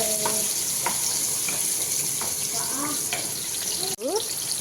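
Onions frying in hot oil with fenugreek seeds for a potato biryani, a steady close sizzle with occasional stirring clinks.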